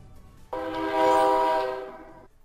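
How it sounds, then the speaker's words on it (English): A passing train's horn sounds one long, loud, steady harmonic blast lasting about two seconds near a college campus, starting abruptly and fading at the end over faint background noise. "a train is tooting my success"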